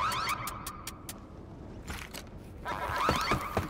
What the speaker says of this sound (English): Please stop it with the damn alarm.